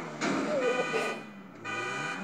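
A damaged car's horn honks in the GTA 5 racing game, two sustained blares separated by a short gap, loud and close, with a voice speaking over the first.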